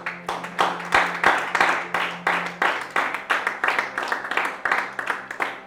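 A church congregation breaks into applause and acclamation, a run of quick, sharp bursts of clapping rising and falling in regular waves, close and lively, with a steady low hum underneath.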